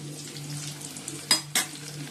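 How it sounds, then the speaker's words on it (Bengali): Chicken pieces fry quietly in a pan with a soft, steady sizzle, broken by two sharp metallic clanks of a utensil against the pan in quick succession. "চিকেনগুলো এবার ভাজবো চিকেনটা দিয়ে নিচ্ছি"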